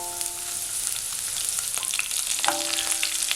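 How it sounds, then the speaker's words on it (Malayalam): Garlic, green chillies and curry leaves frying in oil for a pickle give a continuous close sizzle with scattered pops and a few faint stirring clinks, no voices. "ഇത്രയും സാധനങ്ങൾ നമ്മൾ എണ്ണയിലിട്ട് നന്നായിട്ടൊന്ന് വഴറ്റിയെടുക്കണം"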